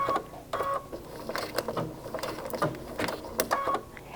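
A home sewing machine runs a blanket stitch on fabric for beginners, its needle mechanism chattering in steady bursts with brief pauses as the fabric is turned slowly.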